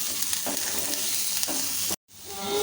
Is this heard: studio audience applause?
no